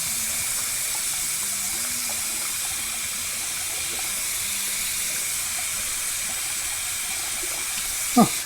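Steady broadband hiss of water running from a faucet, continuous and even throughout, ending with a brief knock or clunk.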